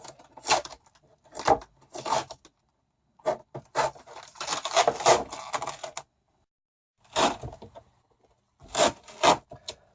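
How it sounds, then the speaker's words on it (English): Masking tape peeled in bursts off wooden window trim, a dry ripping rasp repeated roughly six times with short silent gaps, close and fairly loud, with no talking. "We want to get this tape off before it gets hardened on there."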